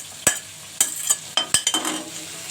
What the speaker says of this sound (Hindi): तो अब हम ये कलेजी इसमें डाल देंगे सारी, जो हमने फ्राई की थी।